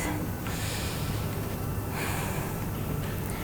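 Steady, forceful breathing during a yoga class lunge pose, a continuous close airy rush with slight pulses of inhale and exhale, no talk.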